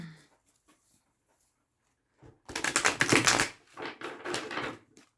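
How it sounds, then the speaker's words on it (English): A rapid riffling flutter of tarot cards being shuffled, a few light taps first, then two quick bursts of shuffling close by. "I'll do one more shuffle."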